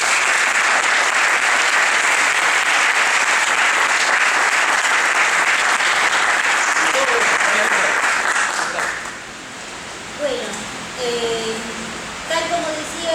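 An audience breaks into sustained, dense applause for about nine seconds, then the clapping fades and a voice begins speaking over the last scattered claps.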